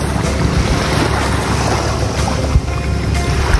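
Waves wash in at the seaside near mangroves, a loud, steady roar of surf and water mixed with heavy wind buffeting the microphone, with no voices.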